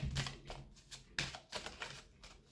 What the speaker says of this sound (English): I really don't want to stop shuffling.